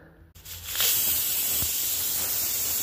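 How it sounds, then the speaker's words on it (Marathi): A pressure cooker releases steam, opening with a quiet moment before a strong, steady hiss rises and stays loud and close until the end. "आता कुकरचं झाकण झाकते आणि कमीत कमी आपल्याला ह्याच्या 4 विसल्स तरी काढून घ्यायच्यात"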